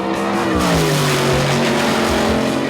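A muscle car with a 400 Chevy Dart block and AFR alloy heads roars loudly and close, its engine pitch climbing and shifting under hard acceleration with a rough, throaty tone throughout.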